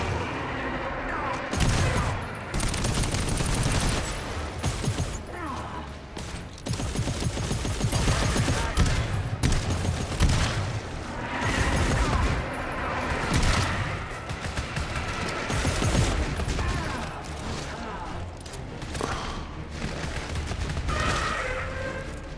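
Continuous gunfire from a GTFO co-op shooter match, dense bursts and booming shots layered throughout, loud and close with brief pauses between volleys.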